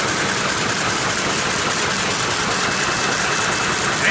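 A Dornier weaving loom producing fabric runs at speed, giving a loud, steady mechanical roar with a faint, rapid rhythmic beat underneath and no pauses.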